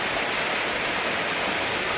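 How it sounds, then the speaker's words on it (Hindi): Rushing water at the Rani Dahra waterfall in Kawardha, Chhattisgarh, a loud, constant broadband roar of cascading water close by, with no voices. "पानी के आवाज आवत है झर झर झर झर झर झर आवाज आते तबे तेला कही थे झरना"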